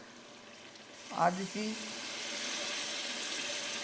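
Water poured into a pan of frying red chili and spices hits with a brief splash, then settles into a steady broad sizzle close by while someone speaks briefly over it.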